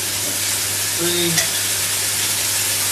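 Madras paste sizzling with keema mince in a hot pan on high heat, a steady close frying hiss with a few soft stirring scrapes and no voices.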